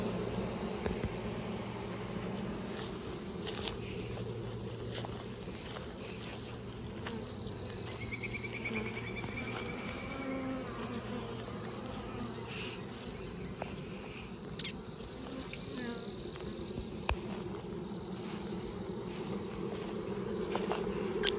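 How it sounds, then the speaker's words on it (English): A huge swarm of honey bees buzzing in a backyard as a beekeeper catches it, a steady droning hum filling the air with faint clicks and occasional sharper tones throughout. "You got some confused bees over there."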